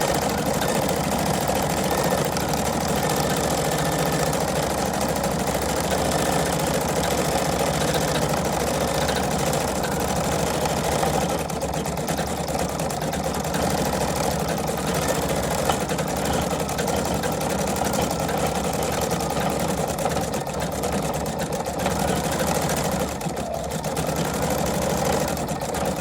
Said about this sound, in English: I'm getting ready to hit the button for start. And now y'all can watch the machine.